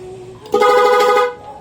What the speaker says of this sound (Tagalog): Ayan, resulta ng busina.